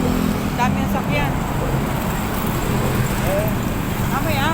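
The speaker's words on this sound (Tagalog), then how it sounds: "Maraming sakyan, oh. Ayan, oh. Dami ng sakyan." Busy road traffic with many vehicles passing in a continuous loud roar, while people talk close by and a few horn-like tones rise above the rumble.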